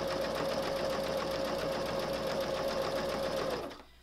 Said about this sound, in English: when I finish getting this stitched all the way around